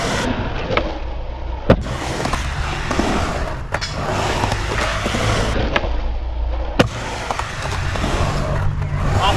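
Skateboard rolling on a transition ramp during a fakie ollie, with a constant wheel rumble and a few sharp tail pops and landing slaps standing out at intervals.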